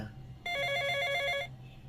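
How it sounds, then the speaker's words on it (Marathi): A telephone rings once in a bright, electronic trill lasting about a second, clear and fairly close over a quiet low hum. "कोणाचा फोन आहे?"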